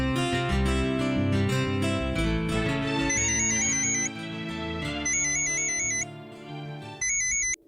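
A phone ringtone plays a continuous electronic melody with repeating high beeping tones over it, steady and fairly loud, with no talking.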